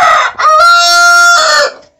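A rooster crows close by, one long cock-a-doodle-doo among backyard hens, loud and alone.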